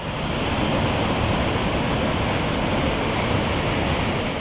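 Dense, unbroken roar of flood torrents of rainwater rushing after torrential rain in Kohlu, Balochistan, loud and steady throughout with no other sound.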